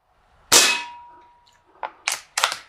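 An Umarex Fusion 2 CO2 .177 bolt-action pellet rifle fires one loud crack with a lingering metallic ring, followed by three quicker, fainter clanks of pellets hitting targets, with no talking.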